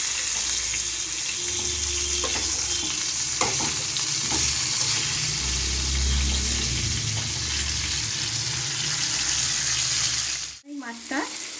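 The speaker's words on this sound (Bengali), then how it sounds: "এবার আমি মাছগুলো উল্টে দেবো" Parshe fish frying in hot oil as the pieces are turned over, a steady close sizzle with a few soft scraping touches, ending in a brief clatter.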